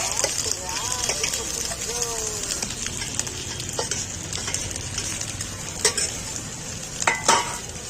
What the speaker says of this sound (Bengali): ফ্রাই করো, ফ্রাই করে নাও, করে নাও।